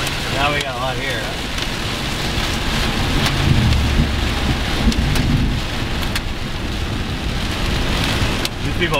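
Hail and heavy rain pound a rental car parked on a road during a Missouri storm, a dense, steady roar of impacts with low rumbling underneath, while people talk inside the car.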